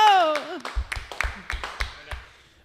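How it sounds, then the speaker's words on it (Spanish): Studio audience on an Argentine talk show claps in a burst of applause for arriving guest Archbishop García Cuerva of Buenos Aires, sharp hand claps starting after a brief cheer and fading toward the end. "fuertes aplausos"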